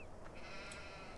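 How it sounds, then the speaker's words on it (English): A sheep bleats in the farming game Farming Simulator 17, one faint, wavering call over quiet background ambience with no talk. "So we have 26 sheep."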